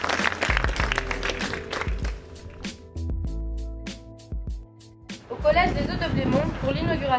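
Audience claps at a new secondary school inauguration, a lively burst of applause with crowd murmur and clattering, followed by a stretch of hum and then voices speaking.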